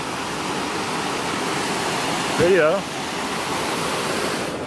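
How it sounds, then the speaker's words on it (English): A waterfall in West Virginia rushes with a constant broad roar close by, while a person briefly speaks over it midway. "So here we are at the not public area, the waterfall."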